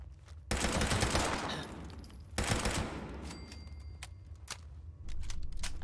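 Bursts of automatic gunfire in the online game Fallout 76, loud rapid volleys in two long strings with a pause between, then scattered single shots and another burst near the end.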